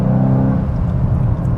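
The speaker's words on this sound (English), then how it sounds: "But I'm just driving the Golf here in sport mode." A 2022 VW Golf GTI engine, driven in sport mode with its dual-clutch gearbox, gives a loud, steady low drone of power close up, with no talking over it.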